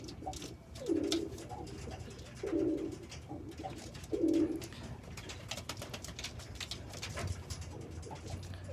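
An old pigeon cooing in three low, throaty bursts spaced a second or two apart, fairly close, with faint outdoor background noise and a few quieter coos after.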